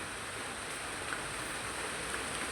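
Heavy rain from storm Bualoi pours down in a steady, hissing wash, faint and distant, with no voices over it.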